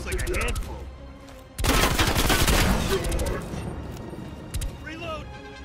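Gunfire in Call of Duty Cold War on PS5 erupts as a loud, dense fusillade of rapid shots partway through, fading into scattered reports, with someone talking before and after.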